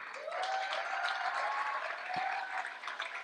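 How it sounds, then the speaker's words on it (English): An audience claps together in a continuous wash of applause, close and lively, with a faint tonal ring lingering beneath the clapping. "a heartwarming applause for our musicians"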